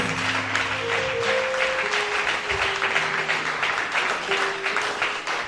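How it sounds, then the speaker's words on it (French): A church congregation applauding, a dense wash of steady clapping that holds throughout, with sustained musical tones playing underneath. "Put your hands together for Jesus Christ"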